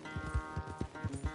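Horse hooves clip-clop in a steady trotting rhythm in the Red Dead Redemption 2 video game, close and distinct, about a dozen evenly spaced hoof strikes with a faint musical background.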